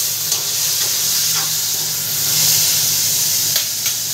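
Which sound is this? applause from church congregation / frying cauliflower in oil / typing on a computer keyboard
frying cauliflower in oil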